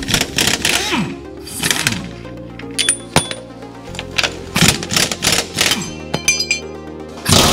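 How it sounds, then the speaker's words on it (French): Metal wrench work on the front suspension of a Renault Mégane 2 CC, with an 18 mm wrench loosening bolts: repeated ratcheting clicks, clinks and metallic knocks in short bursts, close and fairly loud, with brief low talk. "on va devoir juste libérer la vis là, celle-là, et celle-là, on va donner un peu de jeu. Clé de 18, on est parti."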